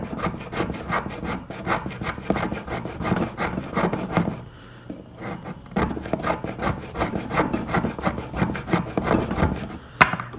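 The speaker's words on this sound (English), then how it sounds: "this plane takes a thicker cut," A hand plane shaves wood from a bass guitar neck in repeated rhythmic rasping strokes, close and fairly loud, with a short pause midway before the strokes resume.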